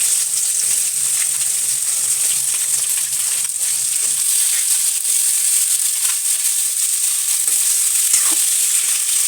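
Carrots fry in oil and masala with a steady, loud hiss, and a spoon stirs them now and then. No one talks.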